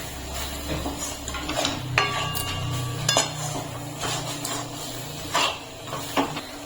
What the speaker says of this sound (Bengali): চালের গুঁড়োটা দিয়ে ভালো করে মিশিয়ে নিতে হবে